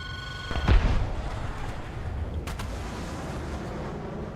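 A loud boom from missile fire in an online air and ground combat game lands near the start, followed by rumbling battle noise and a second sharper burst midway.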